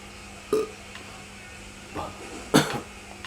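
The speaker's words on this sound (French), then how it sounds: "Ah là, cette petite toux" A short, small cough from a person playing Mafia 3, one quick burst near the start, then faint breathy sounds and a louder throat-clearing burst, all over quiet background noise.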